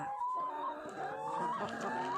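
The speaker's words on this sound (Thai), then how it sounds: "นี่แม่ไก่กะยังอยู่ดีสบาย" Laying hens on a small Thai farm clucking continuously in a busy cluster, with overlapping calls close by and a fairly steady level throughout.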